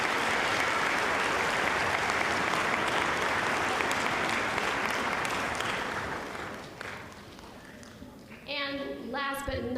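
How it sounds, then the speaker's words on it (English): A middle school band concert audience applauds for staff, with sustained clapping that fades after about seven seconds, and a voice begins speaking near the end. "So can we give them a huge round of applause as well?"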